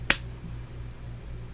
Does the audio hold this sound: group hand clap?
yes